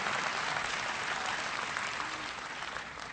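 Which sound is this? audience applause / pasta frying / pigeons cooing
audience applause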